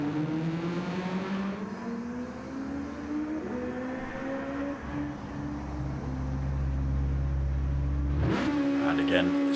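Race car in the Red-Bull Juniors League at Kyoto Driving Park pulls away from a second gear start, its engine note droning and climbing steadily in pitch, then surging sharply near the end, with a commentator talking over it.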